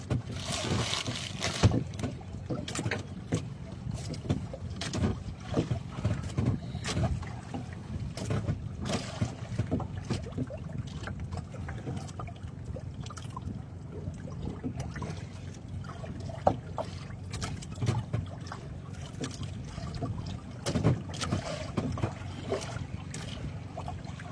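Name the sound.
wind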